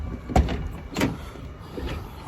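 A damaged car door, hurt in an accident, being forced open: two sharp creaking clunks close together, then a fainter scrape, close and fairly loud with no talk.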